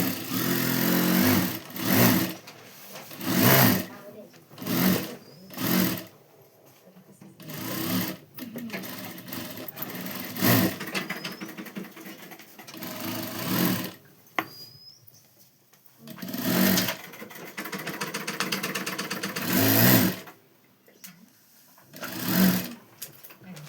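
Sewing machine stitching the lining of an umbrella dress, running in repeated short bursts of rapid needle whirring with pauses between seams, close up, with someone talking quietly in the gaps.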